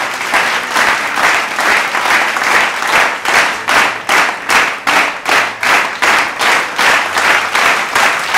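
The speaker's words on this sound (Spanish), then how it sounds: "vamos a darle con un gran aplauso la bienvenida a Anastasia." A crowd at a touring speaker's event claps in rhythm, loud, even beats pulsing in unison for several seconds as a guest is welcomed.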